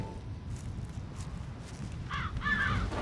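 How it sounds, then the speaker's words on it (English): Two harsh crow caws late in the clip over a low rumbling background, fairly clear and near, in the video game ZombiU. "Crows."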